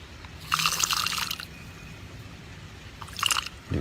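Water pours into a container in two splashy, gurgling bursts, the first about a second long and the second shorter, close and fairly loud with no talking.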